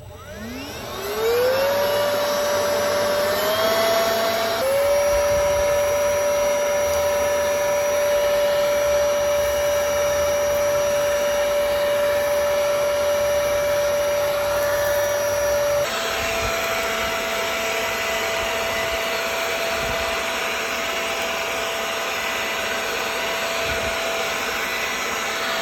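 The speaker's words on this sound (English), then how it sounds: "That is the Lazyboi leaf blower." Compact Lazyboi cordless leaf blower running at its most powerful setting: a loud, steady whining roar that spins up quickly, holds a high pitched tone and drops slightly in pitch near the end, with no talking.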